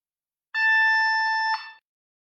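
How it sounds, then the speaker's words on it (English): A BLE restroom key tracker fob sounds its alarm as one steady electronic beep. The clean, harmonic-rich tone lasts just over a second in silence, then cuts off sharply. "As soon as the elevator doors shut, the fob goes red and the alarm follows."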